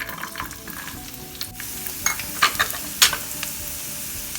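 Garlic frying in about a tablespoon of heated oil in a pan, a crackling sizzle with several sharp spits and stirring scrapes toward the end, close and without talk.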